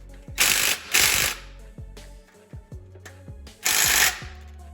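A pneumatic impact driver torquing an exhaust bolt on a car fires off three loud rattling bursts, separated by ratchet clicks and metallic handling sounds nearby.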